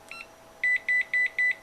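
An EDS-88A capacitor analyzer gives four clear, evenly spaced electronic beeps, each short and loud, after a brief quiet pause with no talking.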